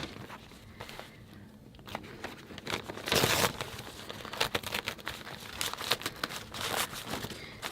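Embroidery stabilizer is peeled from a plush blanket in a close crinkling, tearing rustle, with one louder rip and a run of irregular papery crackles after it.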